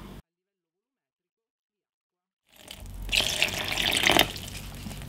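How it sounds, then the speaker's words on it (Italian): Water poured slowly into a cement mix for homemade dumbbells, a soft splashing gush that starts after a stretch of silence, builds and runs steadily for a couple of seconds, close and moderately quiet. "L'acqua però la verso a poco."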